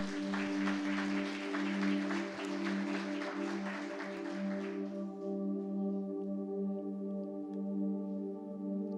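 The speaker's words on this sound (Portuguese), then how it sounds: "Você pode aplaudir o Senhor nessa noite?" A church congregation applauds during an evening service over sustained keyboard chords; the dense clapping runs for about five seconds and then stops, leaving the soft held music ringing on alone.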